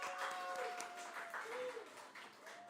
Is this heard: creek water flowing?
no